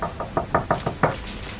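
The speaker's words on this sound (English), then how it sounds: "I'm gonna knock." Knuckles rapping on a wooden door, six quick knocks in a steady, slightly uneven rhythm, close and fairly loud.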